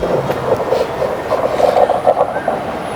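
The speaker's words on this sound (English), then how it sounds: "Oh, it's a train." A train rumbles past close by in the city of Bath, England: a steady, loud low clatter and drone lasting the whole stretch, with no voices.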